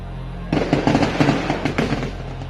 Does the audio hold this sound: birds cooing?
no